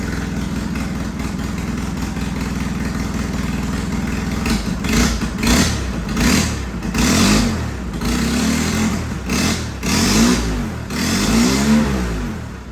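A Polaris RZR side-by-side with a transmission problem runs loudly up close, its engine droning steadily before revving in repeated surges and dips as it is shifted through the gears.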